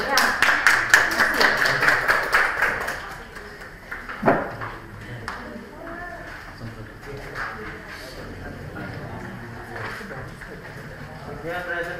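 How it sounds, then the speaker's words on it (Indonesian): Students in a classroom clap for a presenting group, a brief burst of rhythmic clapping at the start that quickly dies away into talking voices and room noise. "Kita berikan tepuk tangan dulu ya."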